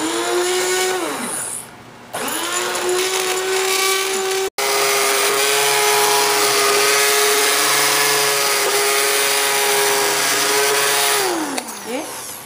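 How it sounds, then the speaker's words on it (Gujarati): A handheld electric blender purees boiled potatoes and leek into soup, a loud sustained motor whine that briefly cuts out, restarts, and runs steadily before winding down. "હવે આપણે એને આ હાથનું મશીન લઈ ને હું બ્લેન્ડ કરી નાખીશ."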